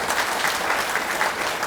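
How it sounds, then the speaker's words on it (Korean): Audience applause at a party meeting, a dense, continuous clapping from many hands in an indoor hall, steady and fairly loud throughout. "다시 한번 함께 뜨거운 박수 보내주시기 바랍니다"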